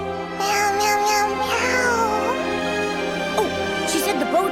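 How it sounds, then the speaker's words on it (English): A cat meows in the Infinity Nikki game, a few short rising and falling calls over a steady musical backdrop, close and clear. "Meow. Meow, meow, meow,"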